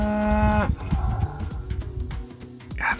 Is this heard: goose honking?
no